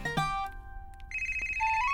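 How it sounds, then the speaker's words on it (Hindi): Phone ringtone signalling an incoming call, a bright electronic melody of sustained tonal notes that steps up in pitch and then settles into a high repeating tone, loud and clear with no talk over it. "लगता है नेहा को फोन आया"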